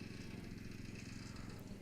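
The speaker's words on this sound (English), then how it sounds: "Lawnmower starting up in the background." A lawnmower engine drones steadily in the background outdoors, a low rumbling hum that stays faint and even throughout, with no voices over it.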